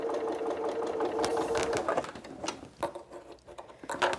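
Sewing machine stitching a quilted Santa cookie rug, a close, rapid mechanical chatter that runs steadily before breaking into uneven bursts and clicks.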